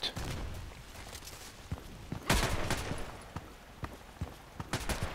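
Scattered, fairly faint gunshots and sharp clicks from a Magpul PDR-C submachine gun in the online shooter Contract Wars, including one louder cluster midway, over a low game background with footstep-like taps.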